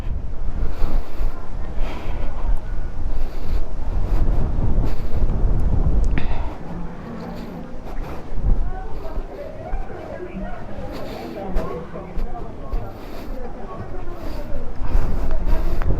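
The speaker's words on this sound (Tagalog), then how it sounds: "ang presko lakas ng hangin ha" Heavy wind roars and buffets against the microphone in bursts while riding fast on a Kawasaki Z1000R motorcycle in light drizzle, with occasional faint voices beneath the gusts.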